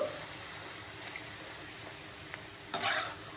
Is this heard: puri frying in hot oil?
yes